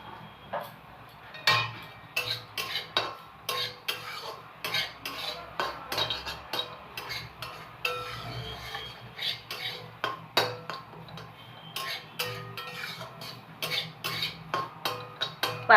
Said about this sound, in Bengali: এবার সব কিছুটাকে আমরা ভালো করে মিক্স করব।